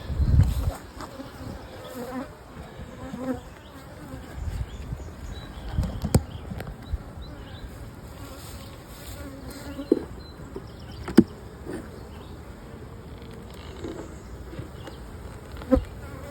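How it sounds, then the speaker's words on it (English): A dense, low hum of many bees buzzing inside a hive, steady throughout with occasional sharp taps and knocks nearby. "colonies are pretty full of bees"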